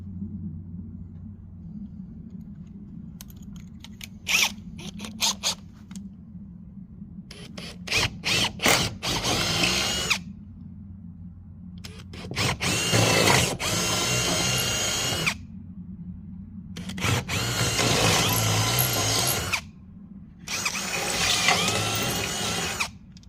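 A power drill driving a hot bit while building spring-assisted ramps for a Farmall hauler deckover, heard in several loud bursts, short at first and then longer sustained runs with ratcheting clicks and a low rumble between them.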